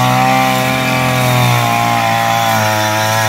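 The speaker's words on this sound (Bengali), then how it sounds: "বন্ধুরা দেখতে পাচ্ছ কত সুন্দরভাবে কাটছে ঘাস।" A grass cutting machine drones steadily and loudly while cutting grass in Malaysia, a continuous close engine whine with no pause.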